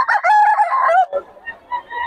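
A rooster, one of the Tasmanian and white gold gamecocks kept in Bocaue, gives a loud close crow lasting about a second. A few softer clucks and short calls follow.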